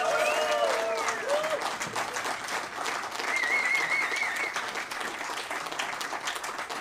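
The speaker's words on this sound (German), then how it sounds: "Und ich hoffe, es gibt einen riesen Applaus für die ganze Mannschaft am Kontrabass." An audience at an outdoor summer concert claps steadily in a dense, sustained wash of applause, fairly loud and continuous, while someone speaks over it at the start.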